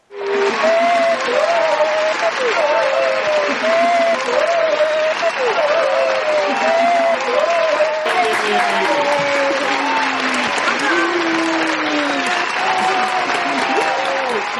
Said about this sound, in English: Big round of applause from all of us.